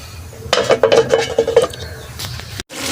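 A metal lid is set over a pan on a gas stove, making a burst of close clattering and clinking metal knocks, then a short pause before soft ambient noise resumes.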